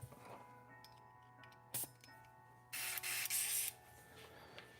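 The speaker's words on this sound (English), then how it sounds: "Set up my airbrush here." An airbrush set up for painting a Goku figure gives two short bursts of spray hiss, one brief and one longer around three seconds, over a quiet room hum with faint ticks and clicks.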